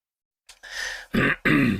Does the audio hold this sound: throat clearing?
yes